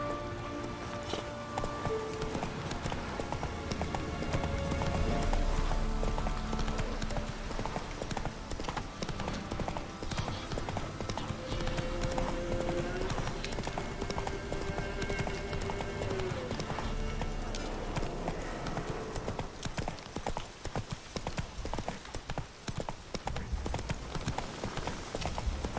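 Horse galloping in The Witcher 3 next-gen: rapid, rhythmic clip-clop hoofbeats run nearly nonstop at a steady close distance, with background music and a brief spoken urging under them.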